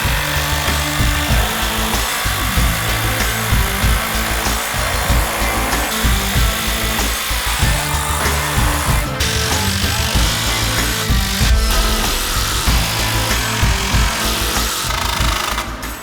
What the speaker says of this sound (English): You guys drove in an equal amount of screws.